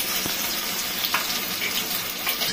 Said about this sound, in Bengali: হালকা হালকা ভাজবো